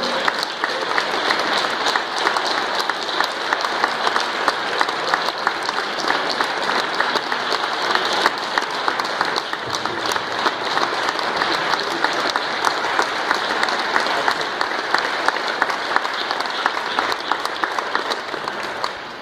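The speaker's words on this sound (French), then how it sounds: "Keep on applauding, he deserves it." A crowd at a Black History Month launch ceremony keeps up sustained, dense applause for a long stretch, loud and even from start to finish, with no voices standing out above the clapping.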